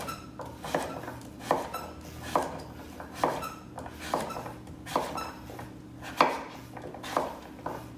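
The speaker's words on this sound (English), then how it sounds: "Cutting it into 3. And then just slicing down." Knife slicing through a peeled butternut squash on a cutting board, a steady run of crisp, evenly spaced chops about once a second, close and clear over a quiet kitchen background.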